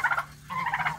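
Geese honk and gobble nearby in a farmyard while being coaxed to eat worms, two short bursts of loud, rapid calls separated by a brief pause.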